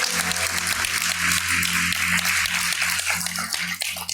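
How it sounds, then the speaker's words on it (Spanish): Congregation clapping in a church service, loud continuous applause with a steady low hum running underneath. "fuerte el aplauso"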